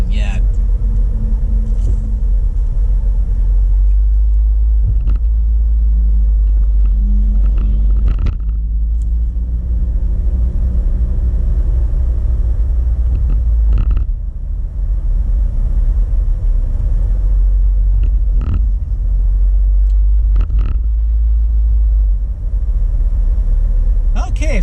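A car drives through the streets of Flint, its engine and road noise forming a continuous deep rumble with occasional faint bumps and clicks from inside the cabin.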